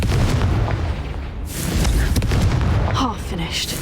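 Confringo fire spell blasts in Hogwarts Legacy, two loud booming explosions about a second and a half apart, each bursting with dense crackling debris over a rumbling game soundscape.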